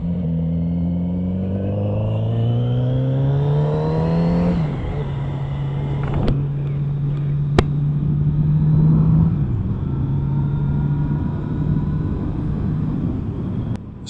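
A 2021 Kawasaki Z900 RS retro motorcycle engine is heard on a ride, loud and close. The revs climb through the gears, then settle into a steady, throaty drone that surges slightly midway.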